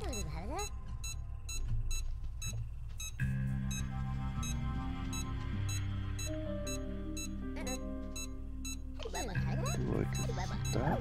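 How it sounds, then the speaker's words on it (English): Rapid electronic beeping from the video game Supraland Crash, layered with game music tones and steady through most of the stretch, with a person talking over it. "that's a very fast beep"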